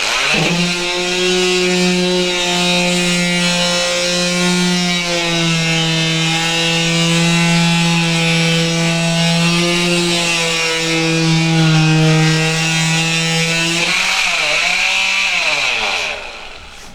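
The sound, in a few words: power sander smoothing a wall after removing textured paint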